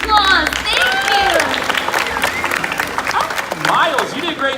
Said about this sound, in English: let's give our trees a round of applause.